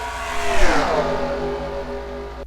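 A race car runs on the track at Utica during the 2014 Home Track Series Royal Rumble, its engine roaring loudly and steadily while the pitch sweeps downward as it passes, with no talk.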